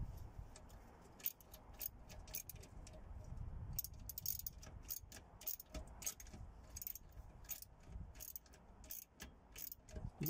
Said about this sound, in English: This is a 10mm socket I'm using.